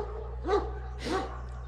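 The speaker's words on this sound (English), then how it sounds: "I'm here with a dog named Marlowe" A livestock guardian dog barks twice, well spaced, at moderate distance over a steady low hum, with no talking.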